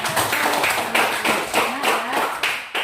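Classroom clapping from students in an Indonesian junior high school lesson, a dense patter of many hands with rhythmic swells, fairly close and steady for a few seconds, with a voice faintly heard beneath.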